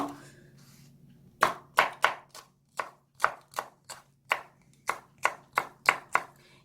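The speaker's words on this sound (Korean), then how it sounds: "청양고추 하나, 홍고추 하나 하는데요. 청양고추는 매운 거 싫어하면 아주 잘게 썰으시면 돼요." Knife chopping Cheongyang chili and red chili on a cutting board, about a dozen sharp, close knocks in an uneven rhythm with no talking.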